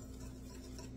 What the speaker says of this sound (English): So I am going to grab my whisk here, get that salt into that flour